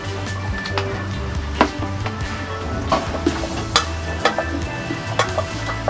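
Apple pieces being stirred with maple syrup in a hot pan, a continuous close sizzle broken by repeated light scrapes and taps of the utensil, no one talking.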